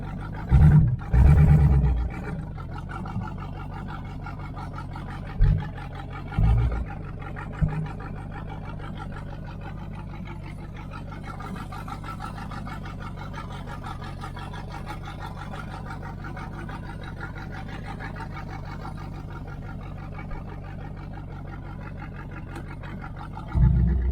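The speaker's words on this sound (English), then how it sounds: "it runs pretty good. The engine's shaking just a little bit" A 1978 Chevrolet Nova V8 hot rod with headers and a true dual exhaust idles steadily and loudly throughout, with a slight uneven shake, while a few short, heavy bursts of rumble rise at the start, middle and end.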